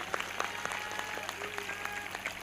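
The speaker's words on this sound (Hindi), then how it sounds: "जोरदार ताली बजाएंगे" An audience at an Easter celebration meeting of a church ministry claps, the individual hand claps sounding thin and somewhat distant, steady throughout against a faint hum.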